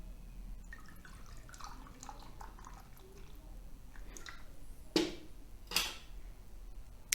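Basqueland Cream of Galaxy IPA poured from a can, a soft, faint liquid trickle and fizz that runs steadily, with two sharp glassy clinks near the end.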